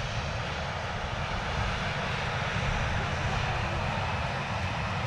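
An aircraft arriving at Manchester Airport in the rain gives off a steady, broad engine roar, heard from a distance and holding an even level the whole time.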